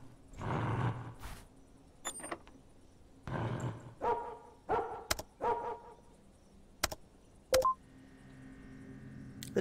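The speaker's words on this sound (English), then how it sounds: "The dog was barking in binary." Dog barks played over a loudspeaker in the game After You, spaced out like a binary code, with a few sharp electronic beeps mixed in, moderately loud against a quiet background.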